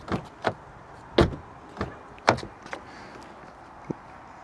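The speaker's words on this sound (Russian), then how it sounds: "Что мне нравится у Audi, как приятно закрываются двери." An Audi Q7's doors thud shut again and again, each one a short, solid close with a soft muffled quality. The thumps are spaced irregularly at close range, with quieter clicks between them.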